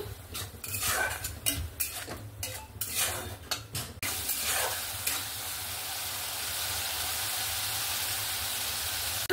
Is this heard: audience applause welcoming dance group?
no